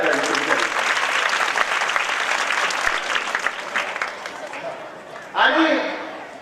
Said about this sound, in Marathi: विशेष टाळ्या या दोघांसाठी झाल्या पाहिजे.